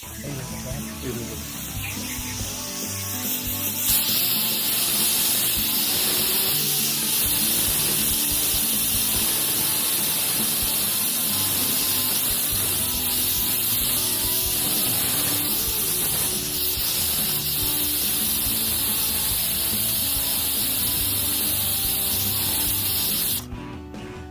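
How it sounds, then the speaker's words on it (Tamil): A pressure cooker cooking brinjal biryani lets off a loud, continuous steam whistle and hiss. It holds steady for over twenty seconds and then cuts off abruptly near the end. "ரெண்டு விசில் வந்தோடனே நம்ம அடுப்பு ஆஃப் பண்ணிவிட்டு விசில் அடங்குறவரில் நம்ம வெயிட் பண்ணலாம்"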